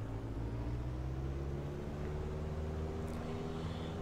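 An aircraft engine at full throttle in the Prepar3D v2 flight simulator during mountain flying, a loud, steady droning roar with a constant hum that holds throughout.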